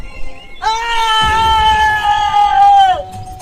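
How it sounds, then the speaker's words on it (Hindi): A man lets out one loud, sustained, high-pitched scream in a Hindi horror story. It lasts about two and a half seconds over a low, rumbling background, then cuts off abruptly. "मुझे नीलेश के चिल्लाने की आवाज सुनाई दी।"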